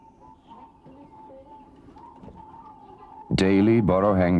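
Caged doves of the Jawi people in Southern Thailand coo faintly in the background for several seconds, then a louder nearby sound cuts in at the end.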